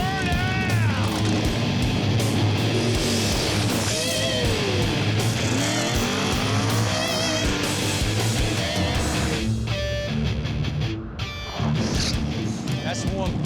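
A Grudge drag race car does a burnout with its engine roaring and tires squealing, loud and continuous, while an announcer talks over it.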